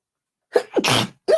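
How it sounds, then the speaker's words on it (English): One loud, close human sneeze: a quick catching inhale, then a forceful burst, followed by another breathy sound right after. "Ooh, I got to sneeze."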